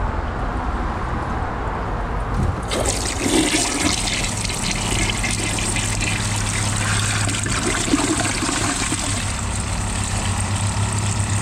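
A Kohler Ingenium toilet flushing strips of thick fabric: quiet low hum, then a sudden loud rushing flush that settles into a steady roaring drain and refill under a low tonal drone.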